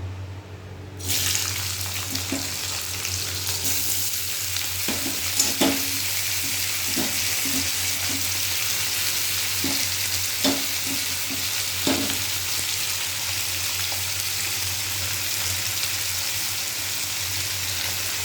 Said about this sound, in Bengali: আর এই যে কফির ডাঁটিগুলোকে এবার এটাকে ভাজা করে নেব